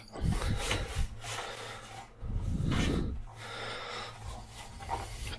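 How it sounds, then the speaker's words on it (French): Pizza dough is rubbed and dragged across a dish to scrape it clean, producing soft, repeated rasping scrapes close up, with a few quiet pauses between strokes. "moi je vous conseille de nettoyer vos plats avec votre pâte"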